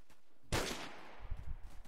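Gunfire in a first-person shooter match: a single loud burst cuts in sharply and trails off, followed by a scatter of softer low thumps and shots.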